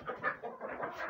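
Chickens being given feed in a warm spot in the evening, clucking in short overlapping bursts, close and fairly quiet, with no voices over them.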